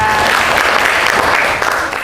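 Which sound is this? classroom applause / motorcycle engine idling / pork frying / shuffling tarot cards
classroom applause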